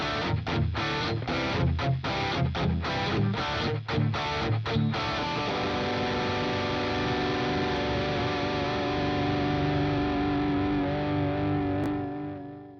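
An electric guitar through the Archetype Plini X amp plugin on a slightly overdriven crunch setting: loud strummed chords in a choppy rhythm, then one chord left ringing and slowly fading, with no voices.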